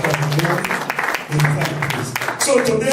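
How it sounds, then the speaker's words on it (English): A church congregation claps together during a service, a dense burst of applause in a reverberant hall with voices mixed in around it. "Let's clap for Jesus in this"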